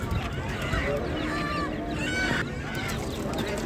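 Geese and ducks honk and quack at the Ganja bird market, loud and close, with a busy crowd chattering over and around them the whole time.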